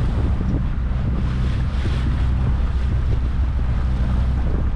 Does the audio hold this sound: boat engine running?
yes